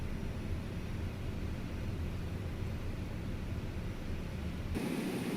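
A steady, loud, jet-like engine roar from a Pilatus PC-12 in Microsoft Flight Simulator 2020 runs unbroken and alone, then shifts in tone near the end.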